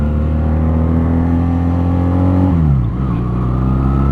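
A motorbike engine revs steadily at high pitch during a test ride, holding a loud, even drone before the note drops and shifts partway through, close to the microphone with no talking.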